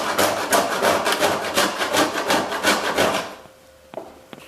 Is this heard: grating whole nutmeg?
yes